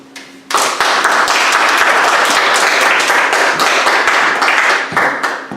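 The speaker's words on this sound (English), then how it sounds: "Can we please give Xiomara talking about ADI model a round of applause?" Audience applause for a speaker at a speaking club meeting: a brief quiet moment, then a burst of many hands clapping, loud and sustained, easing slightly near the end.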